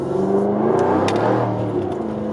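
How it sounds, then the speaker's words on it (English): A 2020 Jaguar F-Type R with its sport exhaust valves open, 550 horsepower, gives a steady close engine drone that swells slightly, with a few faint crackles over the exhaust rumble. "so that way you guys could hear that crackling and popping of that exhaust"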